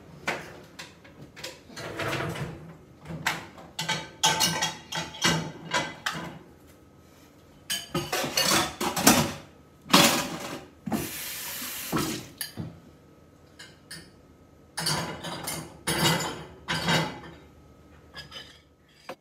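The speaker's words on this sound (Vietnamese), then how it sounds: "nhưng mà đồ nhiều quá mình sẽ rửa bằng máy nha cả nhà" Dishes and cutlery clatter in quick bursts of clinks and knocks while a home dishwasher is loaded in a kitchen, with running water from the tap mixed in, close and fairly loud with no talking.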